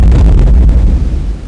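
An explosion from the 1995 DOS video game Crusader: No Remorse: a loud, booming blast with a deep rumbling tail that fades out over about a second and a half.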